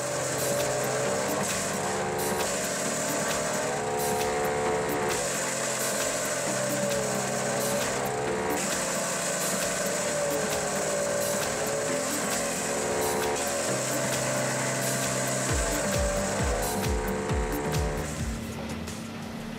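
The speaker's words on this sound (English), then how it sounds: "the Moorbark 1300 Stump Crusher has impressive crushing capabilities, capable of crushing tree stumps up to 36 inches in diameter" Morbark 1300 stump crusher working in dense woodland, a steady loud mechanical drone with rising and falling engine load as it crushes tree stumps, with a few heavy knocking thumps near the end.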